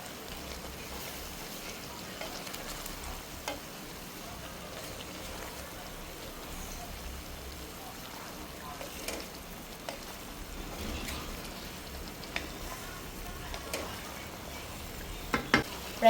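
Three cut medium onions are stirred in a pan for a chilli chicken fry, giving a soft, continuous crackle like light rain, with scattered scraping and clinks from the stirring and no talking.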